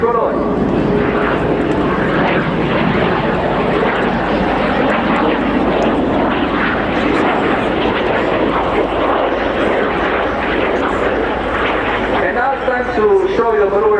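Frecce Tricolori aerobatic jets performing at the RIAT airshow, a loud continuous broadband roar of jet engines that holds steady throughout, with crowd or commentary voices faintly under it.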